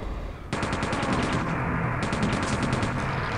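Rapid-fire weapon with quad damage active in Quake 2, a dense buzzing burst of shots repeating in a fast steady rhythm, loud and close, over continuous game noise.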